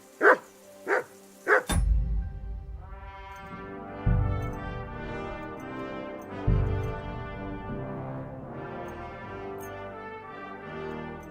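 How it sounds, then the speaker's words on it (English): A dog barks in the video game Kingdom Come: Deliverance 2, giving three sharp, loud barks close by, then quieter scattered barks beneath a bed of music. "Call that dog, Henry."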